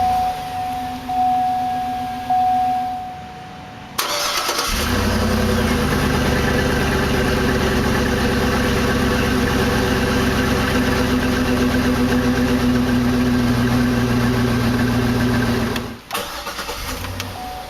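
A 2009 Hummer H2 Chrome Edition cranks and fires up, its engine catching loudly and settling into a steady, rumbling idle that holds for over ten seconds before a brief dip near the end.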